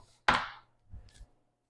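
A knife chopping food on a cutting board during dinner prep: one sharp, loud chop, then a softer pair of knocks a moment later, all close by with no talking.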